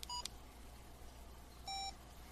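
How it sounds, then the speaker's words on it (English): Electronic beeps sound from a Yaesu FT-70 handheld radio keypad: a short pair of tones at the start, then a single longer beep after a pause, against quiet background hiss. "you heard the short beep when I hit the key and then the longer beep"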